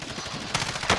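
Video game gunfire crackles in two short automatic bursts close up, with a low rumbling background between them and no speech.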